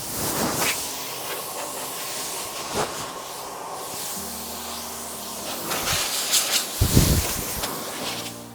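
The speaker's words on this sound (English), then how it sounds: "I'm just going to use a blower here just to blow that swarf off the roof." Air blower hissing in broad bursts as it clears metal swarf off a Land Rover Defender roof after drilling holes for an LED light pod, with intermittent clunks and a louder gust near the end.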